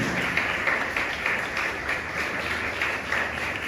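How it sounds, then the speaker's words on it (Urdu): A church congregation claps together during a sermon. The applause is steady and fairly soft, with a rhythmic pulse running through the whole stretch and no voices over it. "باپ بیٹا روح القدس کے لیے تالیاں بجا دیں"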